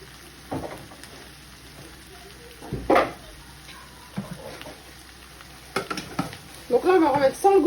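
Chicken and vegetables cooking in a Thermomix at speed 3 on varoma heat, giving soft stirring and sizzling noises in separate bursts, with a louder bubbling patch near the end.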